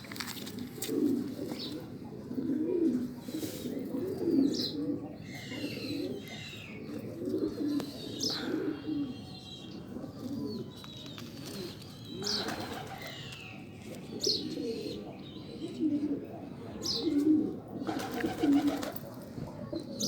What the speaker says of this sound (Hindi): मैं अभी आपको दिखाता हूँ एक कबूतर।